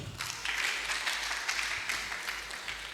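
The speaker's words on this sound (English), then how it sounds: "I believe the Honorable Minister deserves a resounding round of applause" Round of applause at a press conference marking Nigeria's 65th independence anniversary, honoring the minister; steady, dense clapping fills the room from start to end with no voices on top.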